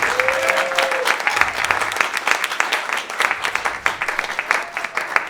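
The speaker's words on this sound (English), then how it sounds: "give a wonderful round of applause and appreciation to Mr. Daoud Williams, Barbara Williams, their family, their whole team" A crowd applauds steadily at a 2023 Martin Luther King tribute, a dense wash of clapping hands that holds at an even level for several seconds with no voices over it.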